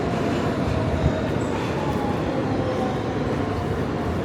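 A New York subway train rumbles steadily through a station, a dense continuous roar of wheels and rail noise close by, with no talking over it.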